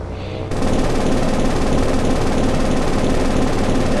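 Heavy, continuous rapid gunfire pours at an enemy submarine in the naval game War on the Sea, a loud dense rattle that kicks in abruptly and holds steady over a low engine rumble.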